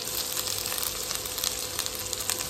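Finely chopped garlic and ginger fry over a medium flame with a soft, steady sizzle. The crackle is continuous and fairly quiet, with light spattering and no voices.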